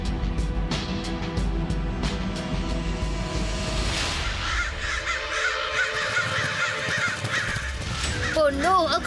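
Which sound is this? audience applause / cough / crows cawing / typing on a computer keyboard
crows cawing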